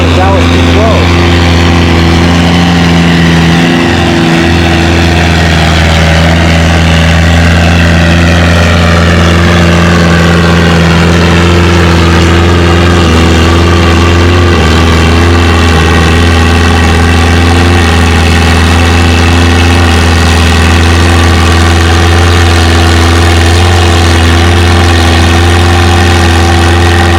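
Small Dallas 212 tractor pulling in a 2,000-pound, 6 mph class at a fall tractor pull in Lynden, its engine droning loud and steady throughout with a slowly shifting pitch and an announcer talking over it.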